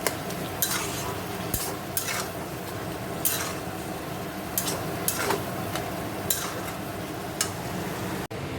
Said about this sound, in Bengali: লাল শাক ভাজা বসিয়েছি